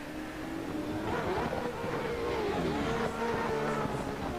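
Engines of drift cars in a virtual drift battle, a Toyota Supra leading with a chaser behind, wail in sustained, shifting revs that rise and fall steadily, loud and continuous with no talking.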